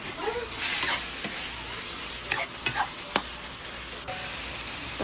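Octopus stir-fry being stirred in a pan: a continuous frying hiss broken by several sharp scrapes and clacks of the utensil against the pan, close and fairly loud, with no talking.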